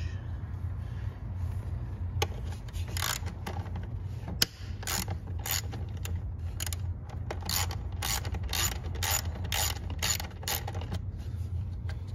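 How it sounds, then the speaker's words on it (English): A ratchet wrench clicking as it loosens 8mm bolts on a 2011-2017 Ford Explorer, bursts of rapid close ratcheting clicks with brief pauses and one sharp knock, no speech. "All right, let's get our wrench."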